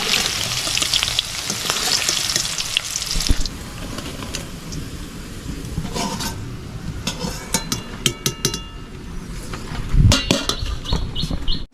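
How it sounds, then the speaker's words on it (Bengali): Chopped capsicum fries in a pan for a village-style fried rice, a steady sizzle running throughout with intermittent clinks and scrapes of a spoon stirring against the pan. "দিয়ে দিচ্ছি ক্যাপসিকাম কুচি, ক্যাপসিকামগুলো ভাজা হয়ে গেছে"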